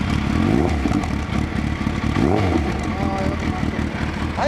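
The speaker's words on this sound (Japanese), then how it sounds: "これストライカ ー。エンジン音聞かせて" A fully customized Suzuki Hayabusa GSX1300R fitted with a Striker exhaust idles loudly and steadily, then rises and falls in throttle blips with a deep, rumbling exhaust note, close to the listener throughout.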